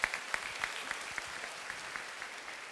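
A church congregation claps warmly, the applause dense at first and then thinning out into scattered claps. It sounds moderately distant and no one speaks over it.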